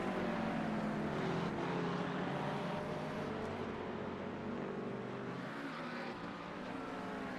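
An LMP2 prototype race car approaches from behind during a six-hour endurance race at Spa, a loud, continuous engine roar mixed with the track's broad noise that holds strong and eases slightly toward the end.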